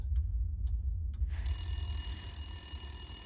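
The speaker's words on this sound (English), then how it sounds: "A phone call?" A telephone rings in the horror game Shadows of Rose, a few short faint chirps followed by a sustained bright electronic ring over a low rumbling ambience, with no speech.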